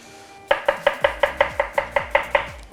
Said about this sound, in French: Je suis actuellement en train de tailler les oignons.